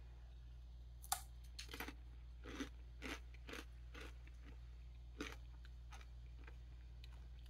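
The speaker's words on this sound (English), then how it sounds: "Nice crunch." Close, crisp crunching of spicy nacho-style chips being bitten and chewed, a string of sharp crackling bites spaced irregularly over a low steady hum, with no talking.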